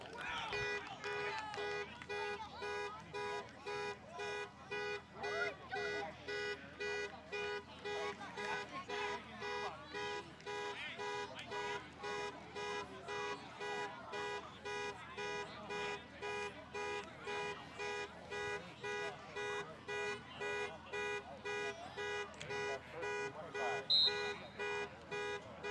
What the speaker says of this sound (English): Close enough for someone to realize their car alarm's going off there.